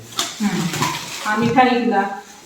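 A lid goes onto a kitchen container with a few light clattering knocks and scrapes, close by in a home kitchen, while someone talks over it.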